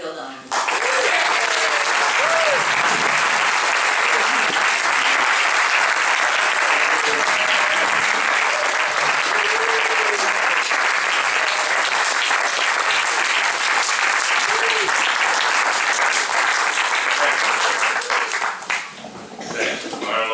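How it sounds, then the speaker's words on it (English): A large audience welcomes host Phil Donahue with long, loud, continuous applause and cheering that holds steady for nearly twenty seconds before tapering off. "Marlo thinks I've had enough applause"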